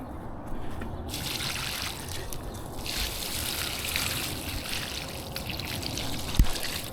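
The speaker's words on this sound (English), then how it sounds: "So there we have the fountain running" Steady trickling water from a small garden fountain, continuous and fairly quiet, with a faint click near the end.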